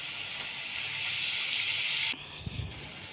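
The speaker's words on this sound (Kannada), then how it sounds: "ಈರುಳ್ಳಿ ಚೆನ್ನಾಗಿ ಫ್ರೈ ಆಗಿದೆ" Onions fry in a pan with a loud, close, continuous sizzling hiss that cuts off abruptly near the end, leaving faint clatter.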